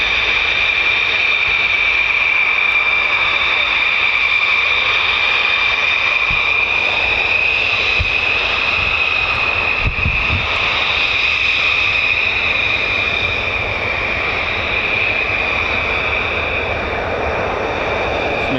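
An F-15 or F-35 fighter jet taxis at RAF Lakenheath, a steady loud engine whine with a sustained high tone and rumbling low end throughout, fairly close and unbroken.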